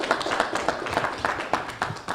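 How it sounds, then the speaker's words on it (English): Audience clapping for a speaker at a press event on a federal redistricting case: a brief, sparse patter of separate hand claps, fairly quiet and uneven, with no talk over it. "Give her a round of applause."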